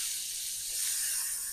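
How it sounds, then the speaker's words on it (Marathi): Chutney with steamed stalks sautéing in oil in a kadhai, a steady close hiss of frying that holds evenly throughout. "चटणी छान परतून घ्यायची आहे"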